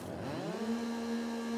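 A virtual chainsaw in the farming game Farming Simulator 22 revs up and settles into a steady, droning motor whine that holds at a constant pitch, moderately loud with no talk over it.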